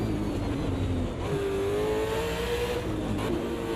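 Race car engine in a sim racing video game, loud and close, revving with a rising, screaming pitch that holds high and steady, alone without talk.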